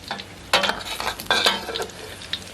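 A crab omelette frying in oil in a pan, a soft sizzle with a few sharp bursts of spatter and scraping near the start and middle, close and fairly quiet, no talk.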